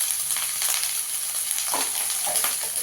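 Eggplant frying with turmeric and salt in a pan: a continuous bright sizzle with a few stirring scrapes, close and unbroken.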